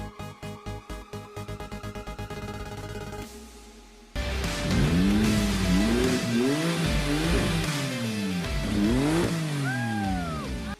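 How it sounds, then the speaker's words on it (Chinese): An abandoned Porsche with a newly fitted radiator, fresh antifreeze and mostly replaced suspension runs up close: a steady rhythmic chugging pulse at first, then a louder engine with repeated revs that rise and fall in pitch. "让车子怠速一段时间。"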